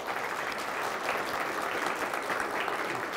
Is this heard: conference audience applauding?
yes